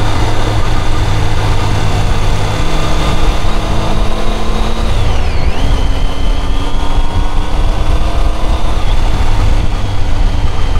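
A Triumph Tiger 800 motorcycle engine drones loud and close while descending the Puerto de Pajares mountain pass, a steady engine note with a brief pitch dip midway.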